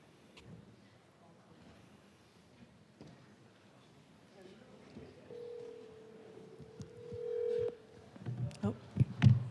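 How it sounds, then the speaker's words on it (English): A telephone call placed during a Colorado House legislative session, heard as a faint dialing tone in a quiet chamber, followed by a steady held tone and a few brief louder clicks near the end, with low background murmur. "Senator Exum, we're going to call you and allow you to speak to the body through your phone"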